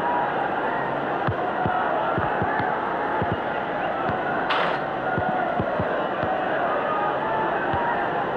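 Stadium crowd in Dream League Soccer 2020 roars in a steady, broad wash after a goal, with scattered thuds and impacts breaking through the constant crowd noise.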